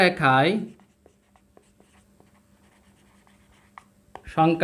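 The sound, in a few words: writing an explanation by hand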